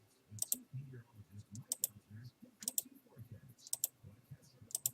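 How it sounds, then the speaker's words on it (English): Mouse clicks on a back button in trading software, sounding as sharp, close clicks at irregular intervals over a soft low voice murmuring underneath. "I think I can click this back button right here"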